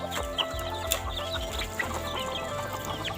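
Clucking from short-legged bantam chickens in a pen, soft scattered calls over a busy background of other birds and farm noise, moderately near.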